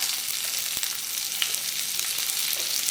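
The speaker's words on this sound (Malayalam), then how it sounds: "ഒരു ചെറിയ കഷ്ണം ഇഞ്ചി ഒന്ന് റോസ്റ്റ് ആക്കുക. ഇതിൻ്റെ കൂടെ 1 സവാള ചേർക്കാം." A small piece of ginger and an onion roast in a pan for a coconut-free chutney, giving off a bright, continuous close sizzle with a few faint stirring ticks.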